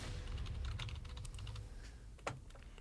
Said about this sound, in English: You just want to get that dice sound.